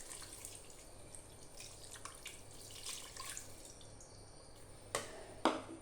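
About one cup of water poured into a pressure cooker holding beef and raw plantain, giving a soft, steady splashing trickle with a couple of sharper drips or knocks near the end, heard alone in a kitchen.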